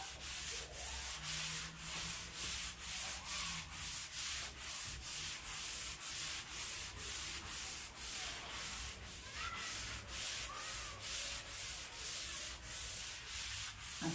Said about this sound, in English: I'm just doing a very light sanding.